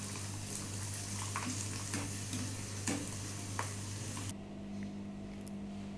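Homemade potato chips frying in hot oil, a steady crackling sizzle with occasional stirring clicks, close and continuous before settling to a quieter simmer.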